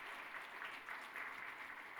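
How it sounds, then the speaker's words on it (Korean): A church congregation at a Sunday worship service applauds, a continuous even patter of many hands heard from across a large room at moderate volume. "여러분 큰 박수로 축하 격려해 주시기 바랍니다."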